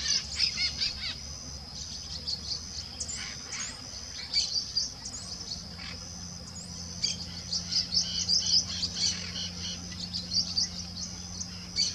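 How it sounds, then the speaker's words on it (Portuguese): Peach-fronted parakeets and other birds call from trees beside a rural road in the Serrinha area, a busy mix of high chirps, squawks and trills rising and falling throughout over a low steady background hum. "E a ave barulhenta é esse periquito, rei."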